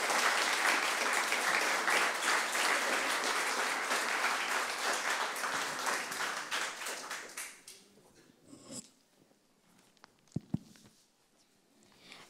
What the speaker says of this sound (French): je pense que vous pouvez les applaudir une bonne fois